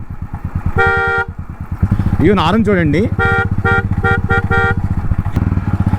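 A modified Royal Enfield motorcycle, a Ducati-styled three-tyre conversion, rumbles steadily in traffic while car horns honk repeatedly nearby; someone speaks briefly over the engine.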